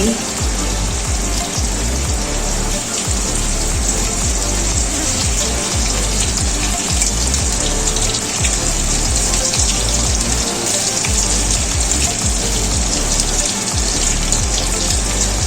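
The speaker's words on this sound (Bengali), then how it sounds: "মোটামুটি এক পিঠ ভাজা হয়েই গেছে, আরেক পিঠ হবে।" Fish pieces fry in a pan of hot oil for chili fish, a loud, continuous close sizzle with bubbling crackle that stays steady for the whole stretch, with no voices over it.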